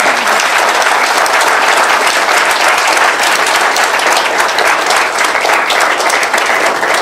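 Loud, sustained audience applause for a best emerging advocate honoree at a lecture-series felicitation ceremony, many hands clapping in a dense, even roar that holds steady for several seconds without talking.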